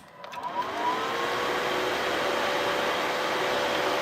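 A suction fan that pulls in dirt, debris and small objects spins up from a short start into a steady, loud whooshing roar with a faint whine, running without a break and with no talking.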